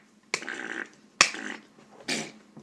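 A voice mimics a fart three times, each a short blurting burst of buzzy breath, close and fairly quiet with pauses between.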